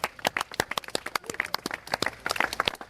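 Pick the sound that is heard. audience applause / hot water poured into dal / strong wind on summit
audience applause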